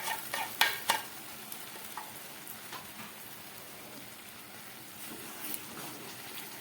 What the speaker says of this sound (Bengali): চিনি আর গুড়ের এই মিশ্রণটা দিয়ে দিচ্ছি।